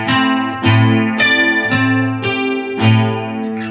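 Acoustic guitar playing a passage from a song, sliding down into a chord, with several ringing strums and slides over about four seconds, close and fairly loud, no voice.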